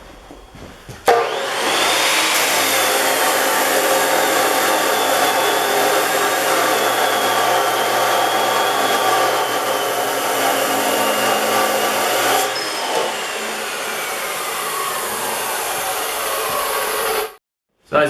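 Steel being cut in a home garage to make skid shoes for a Kubota snow blower: a loud, continuous abrasive cutting roar starts abruptly, holds for about sixteen seconds, eases slightly near the end, then stops.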